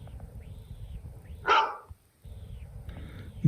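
A single short dog bark ringtone from an iPhone 15 Pro, loud and close, stands alone against a faint noisy background.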